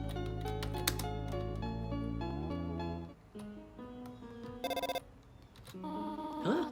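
In the video game Undertale, a cell phone gives a brief electronic ringing trill over soft game music and chiptune tones, a short burst partway through.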